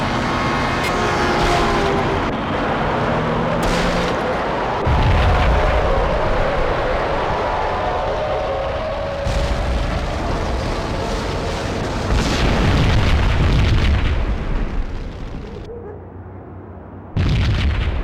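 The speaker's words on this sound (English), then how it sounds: "Another bomb exploded inside the closest slum building" A bomb goes off inside a slum building in the video game Max Payne, a heavy booming explosion with a long rumbling tail, followed by further deep blasts and crackling debris amid tense background music.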